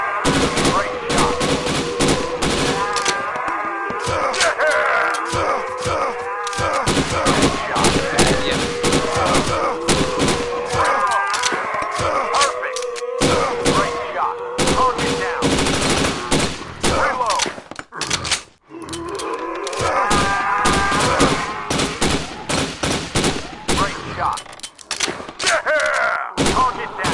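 Sustained bursts of rapid gunfire from a PS4 shooter game, loud and close, with brief lulls and dense repeated shots throughout, under occasional game voices.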